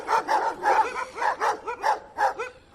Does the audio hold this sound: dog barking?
yes